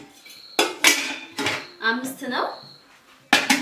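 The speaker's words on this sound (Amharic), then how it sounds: "እዚህ ጋር ደግሞ ካሲዮን ድስት አለ" A casserole pot handled among household dishes, several sharp metallic clanks and clinks in bursts, close and loud, with a voice talking in between.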